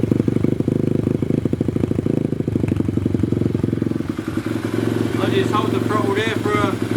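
Pit bike engine starting and settling into a rough, steady idle with a rhythmic mechanical clatter close by, while a voice talks over it toward the end.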